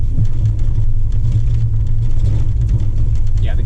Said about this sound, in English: We're driving on these roads.